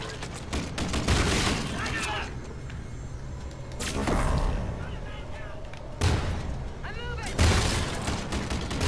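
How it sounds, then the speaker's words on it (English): Pistol and shotgun gunfire crackles in an online shooter video game's infected mode, with repeated sharp shots and rattling bursts layered under steady player commentary at moderate loudness. "Got this pistol for range, and then shotgun for up-close engagements."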